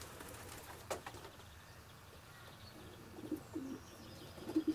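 Soft cooing of racing pigeons inside a loft, a few low coos rising near the end over quiet background noise.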